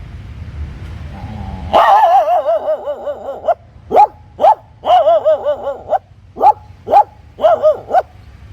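A man imitates a big dog, giving a long growling howl followed by several loud, deep barks in short bursts, up close.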